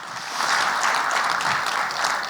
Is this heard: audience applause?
yes